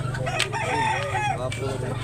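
A rooster crows loudly and close at hand over a steady low background hum, with the drawn-out call rising and falling across the clip.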